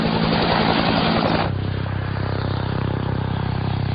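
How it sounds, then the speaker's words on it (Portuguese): Helicopter in flight, main rotor wake striking the tail rotor wake, a loud close rhythmic chopping thud over a steady droning engine, with the sound turning duller and more muffled halfway through, no voices. "A primeira coisa que sempre notamos num helicóptero é o som da esteira do rotor principal batendo na esteira do rotor de"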